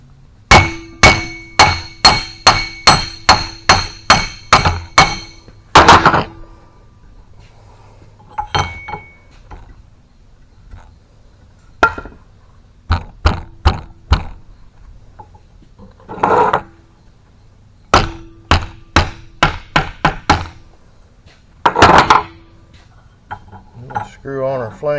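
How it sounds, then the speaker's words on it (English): A small hammer tapping on metal hydraulic cylinder parts during a rebuild, in quick bursts of sharp ringing clinks, a fast run of about ten taps, then scattered groups of strikes with pauses between, close and loud. "I get a little hammer. Sometimes you have to tap on them a little bit."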